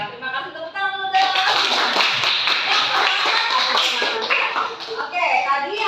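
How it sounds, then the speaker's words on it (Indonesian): A class of teachers or students claps together in a training session, a loud dense burst of hand clapping that swells in after a brief lead-in and continues steadily, with voices and cheering mixed in. "terima kasih tepuk tangan dulu dong"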